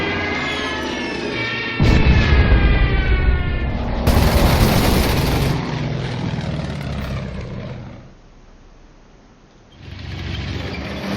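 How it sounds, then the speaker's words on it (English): Stuka dive bomber attacking in the World War II strategy game Order of Battle: a droning, rising aircraft whine is followed by a loud booming impact and a long rumbling roar that fades, then returns quieter. "Let's send in the Stuka."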